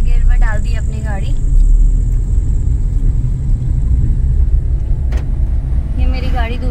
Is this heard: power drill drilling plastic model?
no